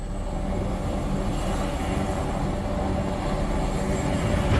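A helicopter carrying an infrared camera flies along a power line at night, its engine a steady broadband roar and hum that holds even and continuous throughout.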